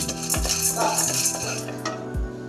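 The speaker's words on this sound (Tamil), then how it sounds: "இதில் கடலப்பருப்பு ஒரு கால் கிளாஸ் வச்சுப்போம் நல்லா மிக்ஸ் பண்ணி வறுத்துப்போம்" Chana dal being dry-roasted and stirred in a pan for idli podi: close metallic scrapes and clinks of a spatula against the pan, with a few sharper knocks, heard alone.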